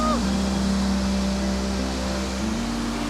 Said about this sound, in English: This is the biggest waterfall in this valley. It's also the biggest waterfall on the Milford Track.